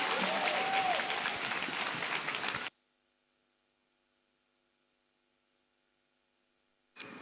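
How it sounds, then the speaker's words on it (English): Applause from a conference audience welcoming a speaker, a dense wash of clapping that stops abruptly after about two and a half seconds, followed by near silence. "as you keep clapping till she gets here"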